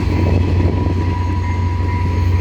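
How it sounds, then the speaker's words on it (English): A long CN freight train passing at a meet with a Via train, a continuous heavy low rumble and steady rolling drone, close and unbroken. "Oh, come on, freight train, please end."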